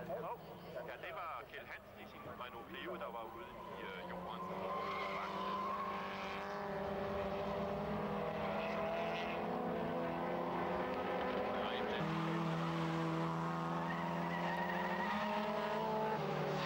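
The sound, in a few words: race cars on track, Toyota Corolla and Renault 5 GT Turbo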